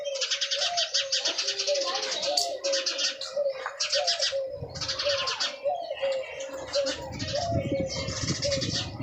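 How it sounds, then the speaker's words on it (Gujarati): Repeated bright chirping bursts of a sparrow close by, in short rhythmic phrases over a low steady coo-like tone, with some faint background rustle. "ચકલી બોલી રહી છે."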